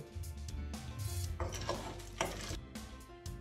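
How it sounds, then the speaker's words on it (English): A wooden spoon stirs a warm milk mixture in a pan over medium heat for coconut chocolate balls, giving a steady close scraping and sloshing with soft knocks against the pot and no voices. "Keep mixing by using the wooden spoon."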